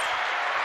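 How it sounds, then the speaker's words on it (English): Brief burst of crowd applause from a live studio audience, a short continuous wash of clapping heard alone. "I just want to give a round of applause."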